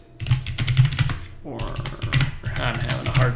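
A cheap temporary backup computer keyboard clatters under rapid, uneven typing up close, while someone talks quietly over the keystrokes.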